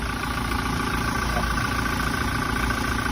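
A Revo 2.4 pickup truck's engine idles with a steady, low rumble close by, a constant hum with no change in pitch.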